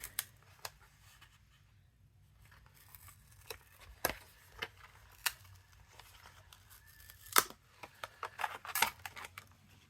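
Scissors cut out green paper for a crafted sweet pea flower, scattered faint snips and crisp clicks at irregular intervals against a quiet room.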